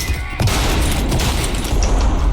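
Shotgun blasts in Trepang2, a sharp loud report near the start followed by a rapid clatter of further gunfire and booms from a heated firefight, with no voices over it.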